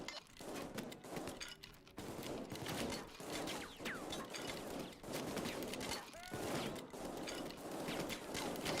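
Dense, non-stop automatic gunfire rattles through a Payday 2 heist shootout with police, loud overlapping bursts and fusillades continuing almost without pause, with occasional game sounds mixed in.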